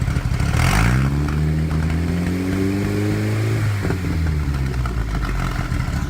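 A four-cylinder car engine, hooked to an antique Snap-On MT665 automotive analyzer, is revved once. It climbs in pitch, holds briefly, then drops back to a steady idle, loud and close, with no talking.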